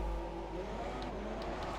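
F1 race cars pulling out of the pit lane at the British Grand Prix in a racing video game, a steady engine drone with a few faint higher whines passing over a constant low rumble.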